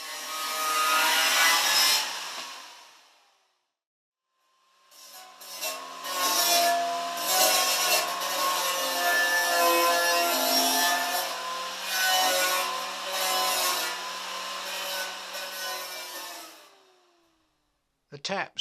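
Exposed edges of a metal fuel tank for a Panther Model 50 are cleaned up before welding with a rasping, scraping tool in loud sustained strokes, a short burst, a pause, then a long continuous stretch.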